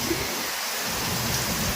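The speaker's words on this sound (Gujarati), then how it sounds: "કેવું કેટલું બધું તમે વરસાદ આવે છે" Heavy rain pours in a dense, steady roar with a deep rumble underneath, loud and close, with no voices.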